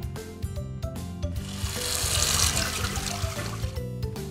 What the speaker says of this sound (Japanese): 最初に手を濡らし、十分な量の泡を手に取りましょう。